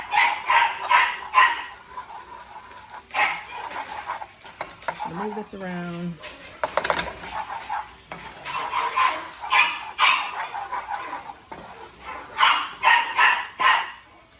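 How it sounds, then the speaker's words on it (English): Household dogs bark intermittently in a kitchen during cooking, fairly faint and scattered under ongoing talk, with a brief whimpering yip in the middle. "Let me stop the dog from barking."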